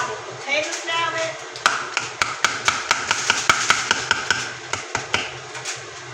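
A spoon taps repeatedly on a pot rim while Thanksgiving dinner is cooked, a quick run of sharp, close metallic knocks at an uneven rhythm, with a person talking now and then.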